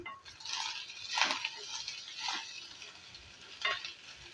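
Rice being stirred into a pan for a quick lunch-box dish, giving soft, intermittent scraping and a light sizzle, with a few louder strokes near the start and end.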